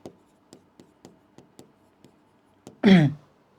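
A pen writes on paper in a series of short, quiet, evenly spaced strokes, ending in a louder rustling scrape.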